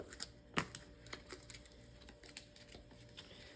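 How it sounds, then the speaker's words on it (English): A deck of potion cards from the Heroes of Arcania board game is shuffled, giving soft, quiet riffling and papery taps with a few sharper clicks, close by and alone. "So I'm going to shuffle the potion deck."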